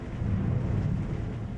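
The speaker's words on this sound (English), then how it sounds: "Did you hear that thunder?" Thunder in the video game Slay the Princess rolls as a deep, continuous rumble, loud and steady throughout, with a faint rain-like hiss above it and no speech.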